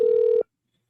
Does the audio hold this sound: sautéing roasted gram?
no